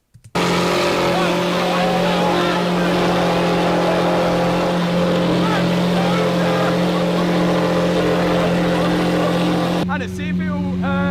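A car engine revs continuously and loudly, a steady roaring drone with a rough low throb that holds for about ten seconds before easing off as voices break in at the end.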